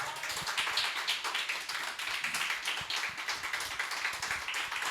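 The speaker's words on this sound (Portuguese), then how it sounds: "Pode aplaudir, igreja" A church congregation claps in steady, dense applause for five seconds, the many hands crackling loud and evenly throughout with no voices above it.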